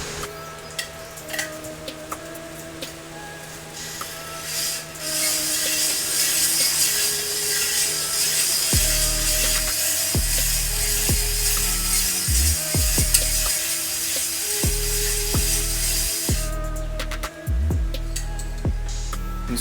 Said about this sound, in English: I got this little cylinder hone deglazer from Napa. This is a 240 grit.